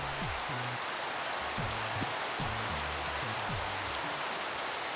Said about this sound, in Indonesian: Satisfying juga saat dengar hujan turun.